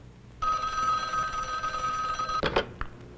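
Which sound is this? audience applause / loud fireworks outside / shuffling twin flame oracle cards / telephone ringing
telephone ringing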